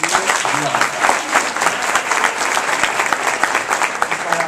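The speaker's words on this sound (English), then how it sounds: "So you guys clap that up" Crowd at a youth entrepreneurship forum applauding, a dense sustained clatter of many hands at moderate loudness, with faint voices mixed in beneath.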